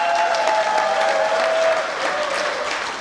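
An audience at a Korean Rotary meeting applauds with sustained, dense clapping for about three seconds, loud and close, with a faint tonal hum underneath and no talking.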